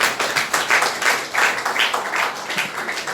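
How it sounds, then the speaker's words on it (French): Hands clap rhythmically and loudly in a church service after a call to praise Jesus, a lively congregation applauding in uneven pulses with scattered voices underneath. "Applaudissez Jésus."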